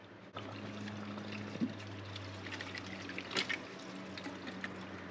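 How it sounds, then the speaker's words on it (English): Engine coolant drains from a car's thermostat housing during a Mishimoto 180-degree low-temperature thermostat install, a faint, steady liquid trickle and pour over a low background hum, with a few brief drips and splashes. "Oh yeah, that's a lot of coolant that came out of there."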